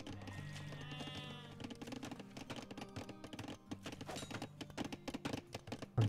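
Sheep bleating in an Age of Empires match, a quavering bleat near the start amid game clicks, hoof-like clops and busy interface sounds, all fairly quiet.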